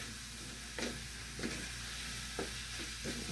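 Adobo of eggplant and pork head being stirred in a hot pan, a steady sizzle with a few scraping stir strokes rising above it.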